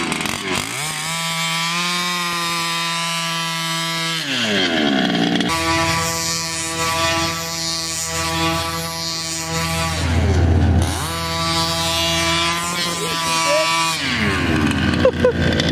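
A small 49 cc motor runs loud and close with a buzzing, dirt-bike-like whine, revving up and down in several sweeps and dropping toward idle between pulls.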